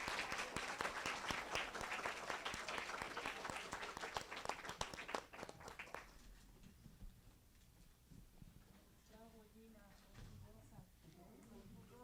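Audience applause at a monthly session of the Hospital General de México, a dense burst of many hands clapping for about six seconds before it thins out into scattered claps and quiet room murmur.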